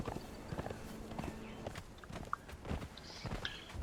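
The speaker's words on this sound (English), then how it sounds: "get on my horse and go." Horse hooves clip-clop at a steady walking pace in Conan Exiles, a quiet, even run of dull thuds over faint game ambience.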